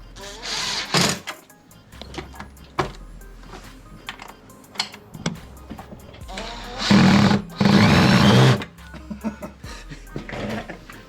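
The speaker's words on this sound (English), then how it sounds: "Grind it till she fits." Parts being ground to fit a 212cc Predator engine during a swap onto a mini sport quad, with two loud sustained grinding bursts near the middle among scattered clanks and knocks of garage work.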